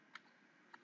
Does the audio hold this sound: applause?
no